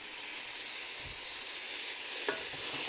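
Tomato paste being stirred into rice and chicken in a hot pan, a continuous bright hiss of frying with a soft scrape of the spoon, close and steady, no voices.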